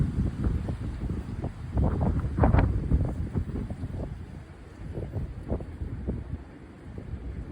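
Strong wind roars through trees in a severe wind event, a steady loud rushing like ocean surf that swells and gusts over several seconds, with buffeting across the microphone and no talk.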